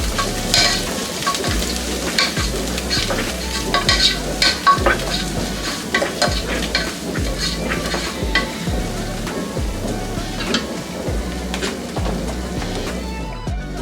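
Ginger garlic paste frying in oil in a pan, a busy close sizzle with frequent spatula scrapes and clinks, steady throughout under faint background music, no talk.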